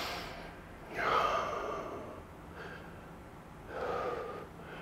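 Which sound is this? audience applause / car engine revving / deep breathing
deep breathing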